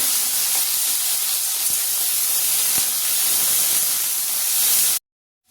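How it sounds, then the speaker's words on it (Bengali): Vegetable stalks frying in hot oil for a fish curry meal, a steady loud hiss of sizzling that fills the whole clip before cutting off abruptly near the end. "প্রথমে ডাঁটাটা ভাজবো।"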